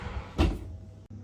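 A homemade Crosta and Mollica-style pomodoro pizza slides into a home oven, one brief muffled thump from the oven door or tray as it goes in, close by and alone, followed by a quieter hum.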